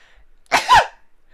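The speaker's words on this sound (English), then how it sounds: "I'm gonna sneeze." A single sharp sneeze, a quick inhale followed by a burst, close and loud against quiet.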